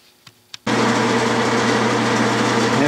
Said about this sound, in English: Now I'm reaming 3/8 all the way to the bottom.